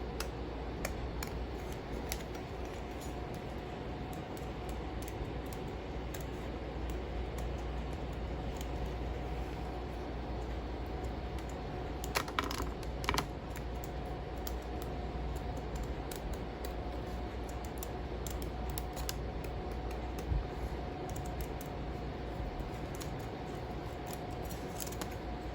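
Scissors cut through a millinery hat kit material along a marked line, giving a long series of quiet, steady snipping and crunching sounds over a constant low background hum, with no talking.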